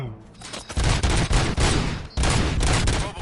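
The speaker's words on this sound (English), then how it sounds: "Gunshots? What's going on?" Gunfire in the RoboCop: Rogue City video game, a dense volley of loud broadband bursts crowding the clip after a brief quieter lead-in, with a short gap midway before the shooting resumes.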